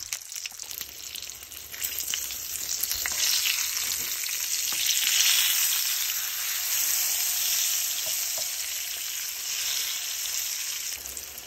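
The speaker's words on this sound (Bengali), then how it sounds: "সরিষার তেলে বেগুন ভাজা। আগে ফার্স্টে আমি বেগুনগুলো একটু সুন্দর করে ভেজে নিতেছি" Eggplant frying in mustard oil sizzles loudly and continuously up close, swelling slightly in the middle, with no voices.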